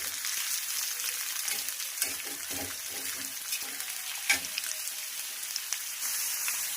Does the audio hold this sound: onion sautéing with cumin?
yes